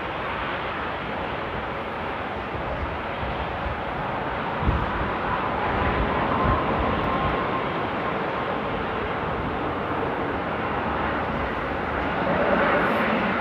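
A German Airways airliner operating as KLM flight 1873 to Stuttgart, heard at Amsterdam airport after a storm, gives a steady broad engine roar that swells slightly midway, continuous and moderately loud throughout with no talk.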